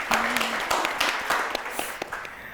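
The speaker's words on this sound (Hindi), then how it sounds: "बहुत सारी तालियां" A studio audience on a morning television show breaks into lively applause, with crisp hand claps throughout the short burst.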